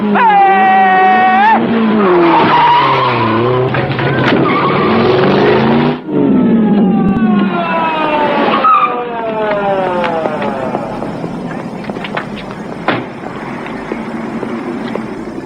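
A red Ferrari speeds past with loud screeching tire squeals and a roaring engine, sweeping pitch glides repeating through the run as the car races, close and dominant throughout.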